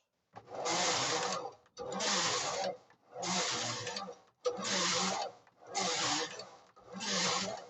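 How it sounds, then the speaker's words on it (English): A restored domestic knitting machine works at a tighter tension, its carriage rasping across the bed in six even back-and-forth passes of about a second each, fairly close and moderately quiet. "Let's go down some tensions and see if it can knit tighter tension."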